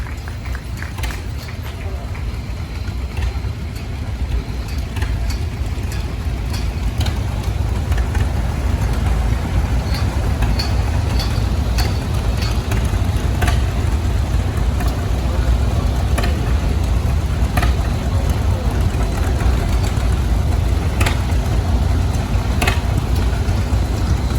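A home-built tractor made from a manure spreader frame, wheels and a garden tractor transmission, its engine running steadily at an antique farm machinery parade at the Vanderburgh County 4-H Fair, a low continuous drone amid crowd noise and talk.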